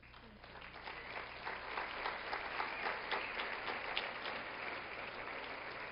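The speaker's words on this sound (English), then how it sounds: "Let's give one more vigorous, heartfelt applause" An audience claps warmly for Hall of Fame inductees, steady, dense applause filling a hall at moderate volume without letting up.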